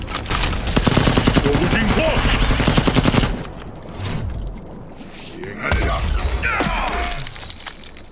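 Soldiers open fire in a Mortal Kombat X cutscene: a loud, dense burst of rapid gunfire with shattering glass lasts about three seconds, then quieter impacts and a second volley follow.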